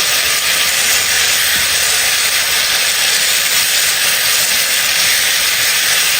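Capsicum and sliced onion sizzling in oil, a loud, unbroken hiss of frying that holds steady from start to finish, with no voices.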